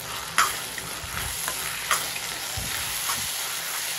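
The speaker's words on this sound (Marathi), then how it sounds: "आणि मस्त मिक्स करून घेऊ।" Chicken chilli with capsicum stir-fried on high flame in a pan: a loud, continuous sizzle with a few scraping stir strokes and occasional knocks, close up, no speech.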